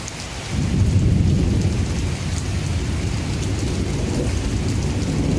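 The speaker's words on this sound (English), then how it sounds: "It's raining hard now. It's a regular gully washer right now, folks." Heavy rain pours down with a deep, rolling rumble of thunder swelling in after a moment and continuing beneath the downpour.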